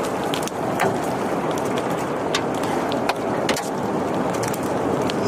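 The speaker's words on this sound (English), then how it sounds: "Ones moving through trees, like this one here, get louder and can sound more like a jet engine." Tornado moving through trees, a dense continuous roar like a jet engine with gusty wind buffeting and occasional sharp crackles, loud and steady throughout with no voices.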